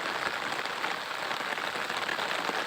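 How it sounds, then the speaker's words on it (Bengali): Steady, dense rain patters on a surface, a continuous even hiss without pauses or voices. "আমাদের আজকে টানা তিন দিন বৃষ্টি হইতেছে"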